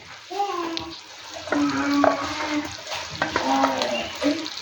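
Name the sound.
ground paste poured into frying pan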